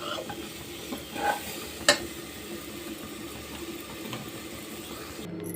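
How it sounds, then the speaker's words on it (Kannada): Soft, steady frying sizzle of spices in oil with a faint stirring scrape and a sharp clink partway through, close and fairly quiet. "ಇದೆಲ್ಲ ಸ್ವಲ್ಪ ಫ್ರೈ ಮಾಡ್ಕೋಬೇಕು ಎಣ್ಣೆಯಲ್ಲಿ."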